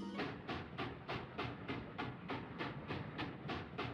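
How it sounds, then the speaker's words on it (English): Train locomotive in the Luigi's Mansion: Dark Moon video game, a steady rhythmic clickety-clack of wheels on rails with regular beats about every third of a second, continuous and fairly loud with no talk. "there's a train in here."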